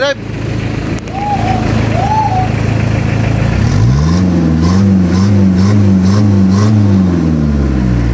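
A Mazda Bongo R2 diesel engine, fitted with an injection pump converted from electronic to manual, revs up loudly from about four seconds in. Repeated rising and falling surges follow over a steady idle, with shouting and talk early on.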